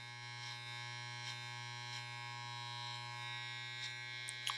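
An electric hair clipper held in the open position hums steadily at close range through a men's side-part haircut with a medium fade, with faint clicks and brushing now and then and no talk.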